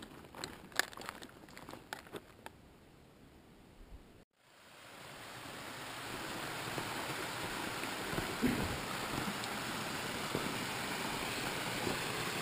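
After a few seconds of scattered clicks and handling, a steady rushing of water falling over a series of small waterfalls and pools swells in and continues as a broad, even roar.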